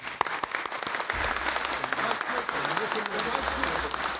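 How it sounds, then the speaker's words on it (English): An audience at a political event announcing Amtrak high-speed rail service between Chicago and St. Louis breaks into sustained applause, dense clapping throughout with a speaker's voice over it. "Let's give them a round of applause."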